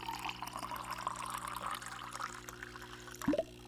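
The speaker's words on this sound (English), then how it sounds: "And then fill the rest of this up with water." Water pours into a coffee cup in the Barista Simulator video game, a steady liquid stream running throughout with a brief louder splash near the end.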